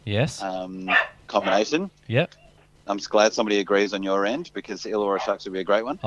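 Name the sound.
dog barking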